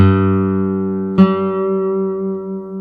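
An early-1980s Horabe Model 35 nylon-string classical guitar made in Kobe, Japan, sounding a single open string with a full, sustained, slowly decaying tone and a brief soft knock partway through, close and solo.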